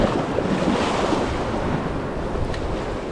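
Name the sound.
ocean waves smashing against rocks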